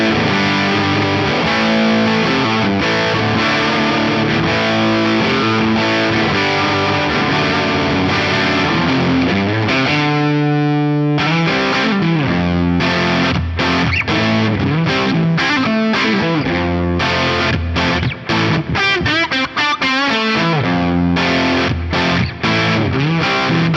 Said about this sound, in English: you crank the bright drive on this, let's turn the compressor off, it becomes a rock and roll machine